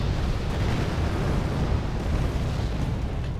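Bombs dropped by A-4 jets in the strategy game Wargame AirLand Battle detonate in a heavy, rumbling blast that rolls on continuously, deep and loud with a long crackling tail.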